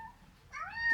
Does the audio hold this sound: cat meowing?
yes